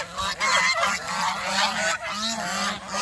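Domestic geese honk loudly and continuously nearby, several harsh calls overlapping with no pauses.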